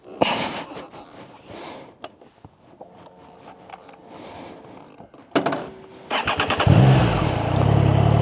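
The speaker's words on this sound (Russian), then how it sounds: "на Триумфе нужно выжимать сцепление, когда его заводишь" A few clicks and clanks, then a Triumph motorcycle engine cranks with the clutch pulled in and fires up, settling into a loud, steady idle close by.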